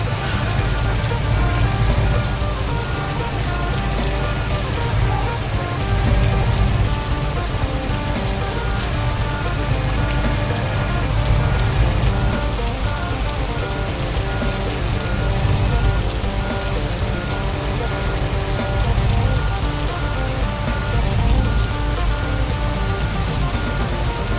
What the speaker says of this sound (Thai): แล้วฝนตกแรงด้วยนะครับผม